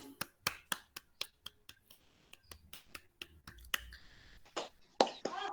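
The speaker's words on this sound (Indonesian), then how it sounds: "sekarang kita tepuk tangan dulu untuk kita semua" Students in an online class clapping, heard as a sparse run of separate sharp claps spaced out like a few individual participants, with faint voices and clicks toward the end.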